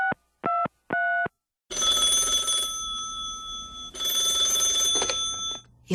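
A telephone rings in a Korean radio drama: three short electronic beeps, then two long, loud ringing bursts separated by a brief gap, with no voices.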